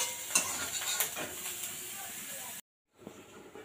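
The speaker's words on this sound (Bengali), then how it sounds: "এরপর চিংড়ি মাছগুলো আমি পরপর দিয়ে ভেজে নেব।" Shrimp frying in a pan for a bottle gourd dish, a steady sizzle and hiss with a few stirring clatters, cutting out briefly before resuming.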